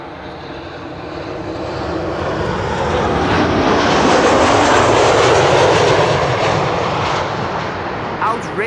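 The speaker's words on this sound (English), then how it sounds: "This is KLM flight 1164. It's arriving from Bergen." A KLM passenger jet arriving from Bergen lands at Schiphol's Kaagbaan runway, its loud engine roar swelling to a peak midway and then easing off, steady and close.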